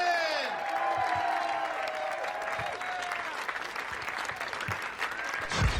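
A stand-up comedy audience applauds for comedian Gary Gulman, a dense wash of clapping with scattered cheers and whoops, steady throughout and joined by a voice over the crowd.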